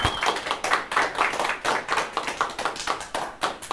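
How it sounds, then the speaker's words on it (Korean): Audience members at a company morning assembly clap together in a quick, even rhythm, strong distinct claps close by and fairly loud, with no talking over them. "박수 쳐주셔야 돼. 이럴 때"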